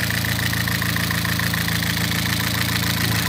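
The freshly rebuilt engine of a Vauxhall Astra VXR runs at a steady idle, a continuous close drone with an even rhythmic pulse and no talking.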